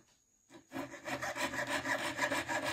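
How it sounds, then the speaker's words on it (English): Metal is hand sawn while making a ring, with close, rhythmic rasping strokes that start after a brief quiet moment and continue at a steady back-and-forth pace. "I am gonna saw because I don't want to grind my fingers off."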